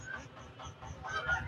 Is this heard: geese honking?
yes